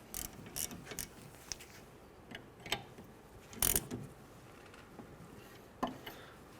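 A ratchet wrench snugs up the parking brake bolts on a 2007-2013 Acura MDX, giving a few short bursts of close, sharp clicking and metallic clacks with quiet pauses between.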